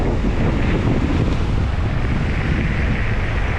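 Steady, loud wind roar buffets the microphone while riding a Dualtron Victor electric scooter at speed, a constant broadband rush with no talk.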